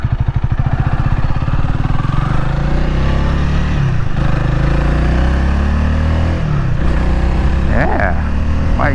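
A Honda Rebel 300 motorcycle cruises along, its engine droning in a steady, loud low rumble throughout with small shifts in pitch as speed changes, wind buffeting over it and a few brief higher squeaks near the end.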